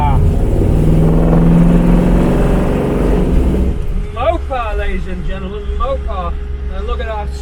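A 1957 Oldsmobile Super 88 engine runs loud and close at a steady rev for about four seconds, then settles to a lower idle as someone talks over it.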